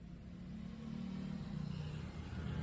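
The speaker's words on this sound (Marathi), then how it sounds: "तर फायनली गाडी चालू झाली आहे मित्रांनो." Car running after a jump-start, a steady low idle rumble with slight revving swells, close and fairly quiet, with no talk.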